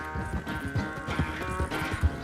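Horse hooves clip-clop steadily through a Red Dead Redemption 2 game scene, a rhythmic clatter of close footfalls with faint snorting and a brief whinny mixed in under ambient noise.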